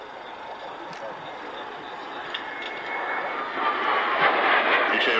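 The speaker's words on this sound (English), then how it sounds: "British Aerospace Aerospatiale Concorde." A British Aerospace Aerospatiale Concorde flies at the 1996 Fairford airshow, its jet engines a broad distant roar that swells steadily louder as it approaches.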